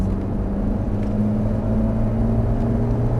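A Ferrari F458 Italia engine drones steadily on a track, holding a loud, even tone as the car accelerates, with no clear rise in pitch.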